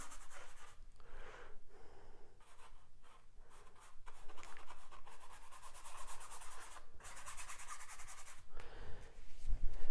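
A paintbrush scrubs oil paint onto an 8x10 canvas, making a continuous rough, scratchy rubbing with repeated back-and-forth strokes, close up and with no talking.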